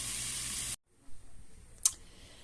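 Asada chicken sizzles in a hot pan with a loud, steady hiss that cuts off abruptly, followed by quiet kitchen noise and one brief sharp click.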